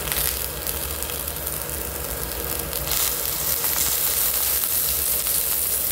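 Oil sizzles and crackles in a wok reused from earlier frying, a steady, close, continuous hiss that holds for the whole stretch with no talk over it.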